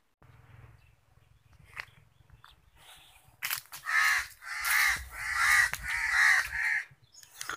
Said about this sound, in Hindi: कौवे परिंदे जानवरों की आवाजें आ रही हैं